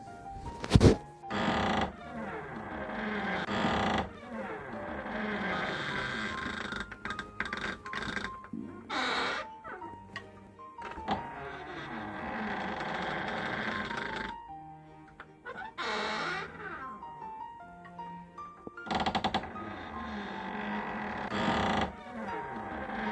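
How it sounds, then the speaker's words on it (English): Repeated squeaky creaking from a prosthetic leg in an irregular walking rhythm, close by in a library, with faint rustling and shuffling between the squeaks. "trying to walk through a library with a very squeaky prosthetic"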